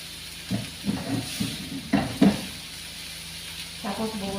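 Onions frying in a pan give soft, uneven sizzling bursts with steady background hiss, close and moderately quiet, with no talking.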